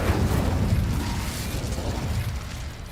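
A fire spell cast with Incendio in a Hogwarts magic game, heard as a steady roaring, crackling blast of flame that fills the whole moment and tails off slightly at the end.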